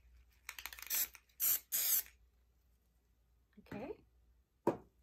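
Three short hissing bursts of an aerosol spray paint can, then a couple of quieter sounds, all close by.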